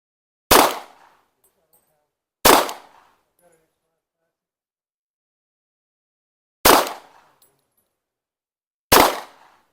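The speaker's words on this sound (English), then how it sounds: "So let's try it out and see if we can zero in the Glock." A Glock pistol fired at a range while being zeroed: four sharp, loud shots spaced unevenly over about nine seconds, each ringing out alone against silence.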